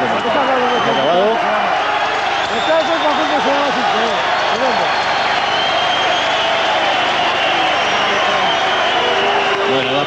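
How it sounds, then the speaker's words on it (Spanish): Applause and crowd noise for two boxers at the end of a bout between Hector Moreira and Jose Babiano fill the space as one steady, loud wash of sound, with a commentator talking over it throughout. "el aplauso para los dos boxeadores por la pelea que han hecho"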